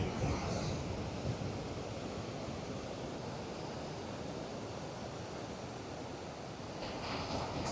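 Atlantic Ocean surf rolls onto a beach, a broad, continuous roar of breaking waves mixed with wind buffeting the microphone, steady and fairly close with no voices.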